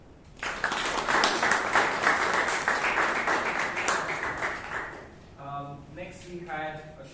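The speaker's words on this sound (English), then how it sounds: "Big round of applause." Audience applause at a Toastmasters club meeting in Bangalore, a burst of dense clapping that starts after a brief pause and tapers off after about five seconds, with a voice talking at the end.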